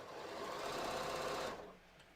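A sewing machine stitching straight across the inseam junction of stretchy yoga pants, a fast steady whir that runs close and continuous for about a second and a half, then stops abruptly.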